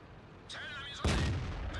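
A single heavy tank cannon blast in World of Tanks, from a Bat.-Châtillon 25 t, bursts in after a rising mechanical whine, booming loudly and then rumbling as it fades over steady game background noise.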